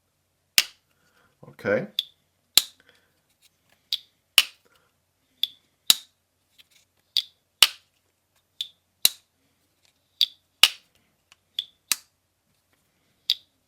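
A CJRB Bowie Pyrite slip joint knife being opened and shut over and over, sharp close metallic snaps at a steady pace of about one per second, with a brief word spoken near the start.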